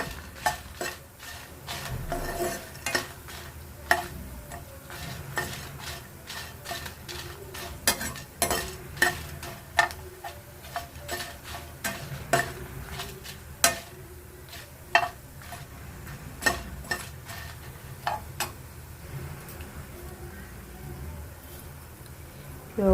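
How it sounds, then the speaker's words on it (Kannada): Potato, green peas and capsicum fry in a pan, with a soft continuous sizzle under repeated sharp scrapes and clicks of a spoon stirring against the metal, spaced irregularly. "ಸ್ವಲ್ಪ ಫ್ರೈ ಆಗಲಿ."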